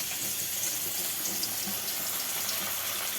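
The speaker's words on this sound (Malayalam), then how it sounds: "അത് തൊണ്ട് പൊളിച്ച് കഴുകി മുളകും കൂടെ കഴുകി വെച്ചേക്കുവാണ്" Peeled onions and chillies rinsed under a running kitchen tap, a soft, even stream of water splashing close by without pause and with no one speaking.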